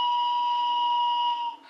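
A single sustained electronic whistle tone from a sat-nav app, imitating a train whistle as a level crossing nears, bright and steady, sounding alone for over a second before cutting off abruptly.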